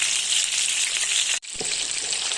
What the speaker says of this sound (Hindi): इसी तरह हमने इन्हें अच्छी तरह जो है वो फ्राई करना है